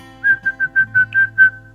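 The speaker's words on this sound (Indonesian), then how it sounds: "kalau burung itu kita suka bersiul ya untuk memanggil burung" A person whistles to call birds, sounding seven short, clear, high notes in a quick even rhythm, close and loud with nothing else around.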